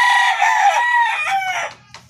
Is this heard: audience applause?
no